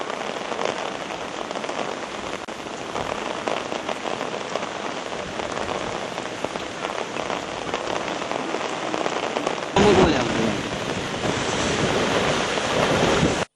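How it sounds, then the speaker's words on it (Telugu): Heavy monsoon rain pours down across Karimnagar district, Telangana, amid overflowing streams and flooding: a dense, steady, loud roar of rainfall with no voices, swelling slightly louder toward the end. "కరీంనగర్ జిల్లాలో విస్తారంగా వానలు కురుస్తుండటంతో వాగులు, వంకలు పొంగి పొర్లుతున్నాయి"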